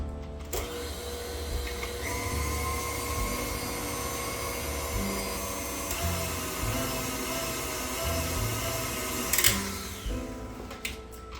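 An electric mixer beats egg white protein powder into cinnamon roll batter. It gives a continuous close motor whine that holds for about eleven seconds, with small shifts in pitch and a brief clatter near the end.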